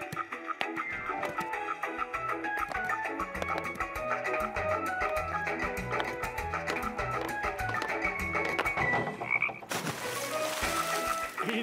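A cartoon frog in an animated children's firefighter show croaks steadily, with repeated croaks running over a busy, music-like backdrop for most of the stretch.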